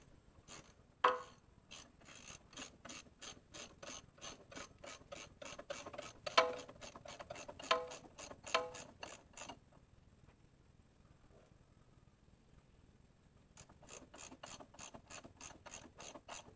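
Ratchet wrench clicking steadily while tightening nuts on a corn planter, a long run of rapid pawl clicks with a few louder knocks, a pause, then another short burst of clicking close by.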